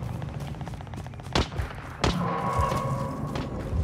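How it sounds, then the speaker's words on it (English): Freeze ray weapon firing in Call of Duty Modern Warfare, two sharp loud blasts close together over steady game noise, followed by a sustained whooshing tone. "It's called a freeze ray."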